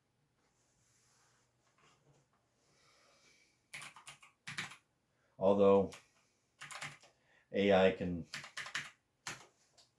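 Bursts of clicking keystrokes on a computer keyboard, close and fairly quiet, in short runs separated by pauses, with a person speaking a few words and breathing between them.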